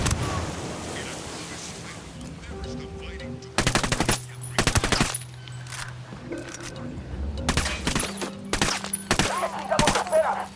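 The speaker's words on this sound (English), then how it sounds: "I'm opening fire on these shitheads." Automatic gunfire from a firefight in Ghost Recon Wildlands: loud, close bursts of rapid shots that start and stop abruptly, with quieter stretches between them and game voices talking underneath.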